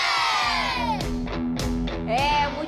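Flamengo fans in a crowd shout and cheer in a loud, excited burst of rising and falling yells, close by and dense.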